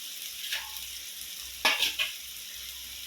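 Vegetables sautéing in oil for Tamil drumstick poriyal, masala frying until oil separates: a steady soft sizzle with a few sharper stirring scrapes near the middle, close and fairly quiet, no talking.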